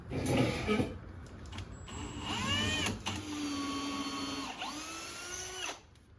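A small electric drill boring holes for hinge bolts in a custom Kydex press, whining up in pitch as it spins, then biting into the material in a few short bursts, fairly quiet and close, without speech.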